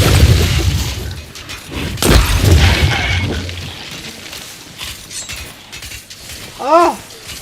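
A fire bomb shatters in a video game with a sharp crash of breaking glass, followed by rumbling and scattered impacts, then a short tonal chirp near the end, moderately loud and close.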